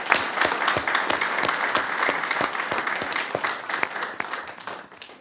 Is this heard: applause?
yes